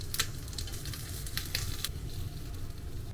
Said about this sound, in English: First, I'm going to stir fry the vegetables.